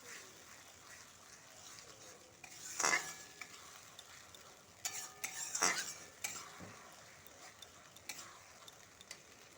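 Cumin, chili, ginger and garlic paste being stirred into chicken in a pan for chicken and potato curry, faint sizzling with a few louder scraping strokes of a utensil against the pan.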